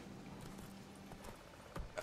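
Horse hooves clip-clop in The Witcher III: Wild Hunt, a soft, steady rhythm of game hoofbeats at low level, with a couple of louder thumps near the end.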